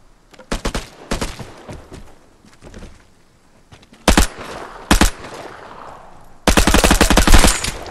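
Automatic gunfire in the third-person survival video game Vigor comes in loud, close bursts of rapid shots separated by short quiet gaps, with a long sustained burst at the end.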